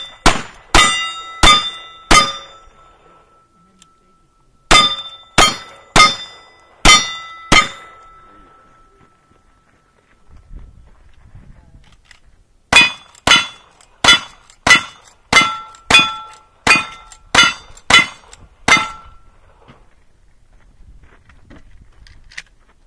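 Pistol shots ringing off steel knockdown targets at a shooting range, two fast strings of sharp metallic clangs in quick rhythm, a pause with low rumble, then a longer rapid run of about ten loud ringing hits.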